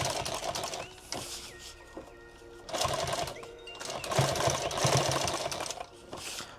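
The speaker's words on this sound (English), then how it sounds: "I'm sewing that on" A sewing machine stitches branding onto nylon webbing for a subgun micro rig, running in several loud mechanical bursts with a rapid needle rhythm and short pauses between runs.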